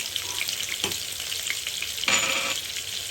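Garlic for köfte İskender sizzles in a hot pan, a steady bright frying hiss that swells briefly as more is stirred in, close and loud with no talking.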